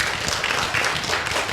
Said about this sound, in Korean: 박수 한번 해드려요